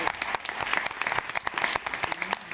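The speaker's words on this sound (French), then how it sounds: "On les applaudit, bravo." A studio audience on a TV set applauds a visiting school: a short burst of dense, lively clapping, fairly close and even throughout, with no voices.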